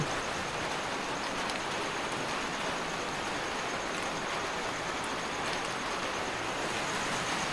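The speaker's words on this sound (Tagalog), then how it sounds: "Ulan. Patulo." Steady, even hiss of rain falling continuously, with no pauses, voices or other distinct sounds.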